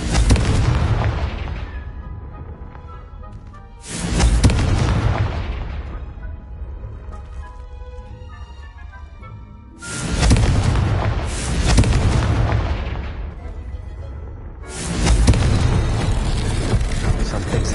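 Repeated explosive spell blasts in Hogwarts Legacy: four or five loud booming bursts, each decaying over a couple of seconds, with quieter game sounds in the gaps.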